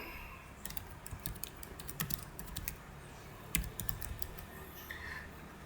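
Computer keyboard typing, quiet and close, with a fast, uneven run of light key clicks that pauses briefly and then continues, no talking.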